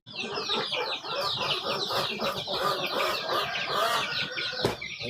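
Small young chickens on a home poultry farm cluck and chirp steadily in a dense, continuous chorus, close and moderately loud, with an occasional sharper squawk.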